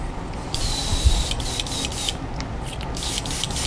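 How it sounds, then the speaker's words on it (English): A spray bottle spritzes cleaner in a few short, hissy bursts, close and fairly clear against a steady background hum with some faint rubbing. "Just giving just a couple of spritzes."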